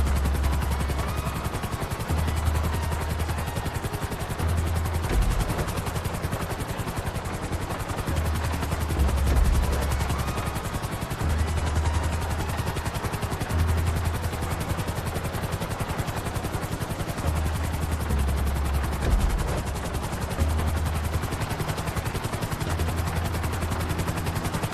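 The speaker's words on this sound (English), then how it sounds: "Bring the helicopter down gently onto the helipad." Helicopter in Grand Theft Auto V, a loud continuous rotor thrum with a steady pulsing low beat, mixed with intermittent gunfire-like bursts throughout.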